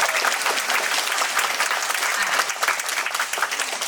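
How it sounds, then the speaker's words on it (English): An audience at a community meeting breaks into dense, sustained clapping that fills the room at an even level, with no voices heard over it. "if we're not allowing one group to clap, we should not allow the other"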